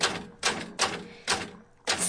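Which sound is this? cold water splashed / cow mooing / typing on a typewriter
typing on a typewriter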